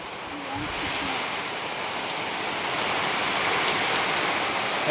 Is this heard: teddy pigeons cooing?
no